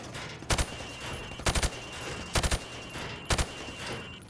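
Target shooting in Call of Duty Modern Warfare Remastered: four evenly spaced bursts of two or three sharp rifle shots each, crisp and close over a steady background hum.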